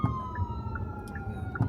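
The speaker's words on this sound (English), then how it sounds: "Ambulance." An ambulance siren wails outside, heard at a distance as a steady rising and falling tone that continues throughout under light background noise, with no one talking.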